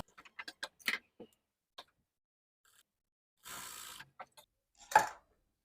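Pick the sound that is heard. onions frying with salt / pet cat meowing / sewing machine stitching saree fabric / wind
sewing machine stitching saree fabric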